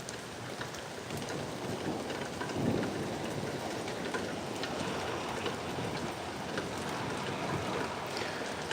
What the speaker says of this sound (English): Do you guys also like watching storms?